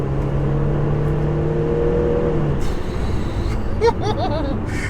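A 3-litre bi-turbo Audi diesel with roughly 550 bhp pulls hard under acceleration, its steady engine drone rising and then blending into a rushing, broadband roar as third gear comes in.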